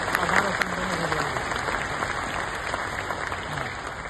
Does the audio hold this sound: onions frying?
no